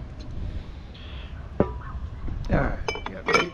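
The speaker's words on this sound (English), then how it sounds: "Taking the glass off if I can." Glass is worked loose from a small metal mower, giving scattered clinks, taps and rattles of glass and metal against a quiet background, with a sharp knock partway through and a busier clatter near the end.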